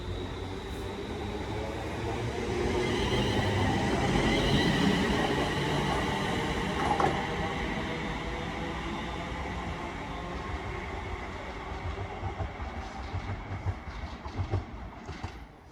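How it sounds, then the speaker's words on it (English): A West Midlands Railway Class 350 electric train, running on the Walsall service out of Birmingham New Street, passes close by with a swelling rumble, rhythmic wheel clatter and a faint squeal, then fades to lighter track clicks. "there goes the slightly delayed 1251 West Midlands Railway service to Walsall from Birmingham New Street"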